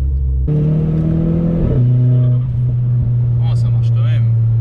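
A stage 2 tuned Renault Clio 4 RS 1.6-litre engine idles with a low steady hum, then revs up with rising tones and loud intake noise into a droning note, with faint chirps near the end.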